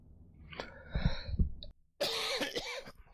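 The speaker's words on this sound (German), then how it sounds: "So, nochmal gehustet." A person coughs several times in short bursts with a throat-clearing sound, close and fairly loud, and the coughs break off into a brief pause before more noisy vocal sounds follow.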